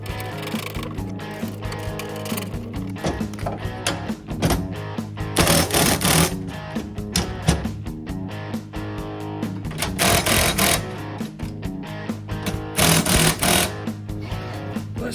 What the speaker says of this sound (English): We'll get the impact to suck them down.